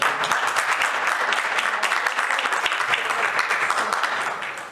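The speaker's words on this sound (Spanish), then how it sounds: "Un aplauso para terminar esto" Sustained applause from an audience at the close of a science philosophy and teaching panel, a dense steady patter that tapers off in the final moments.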